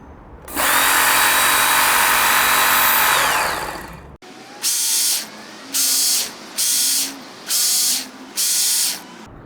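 A Work Sharp Ken Onion knife sharpener grinds a blade on a medium-grit belt: one long steady whine of about four seconds, then five shorter bursts in an even rhythm, loud and close.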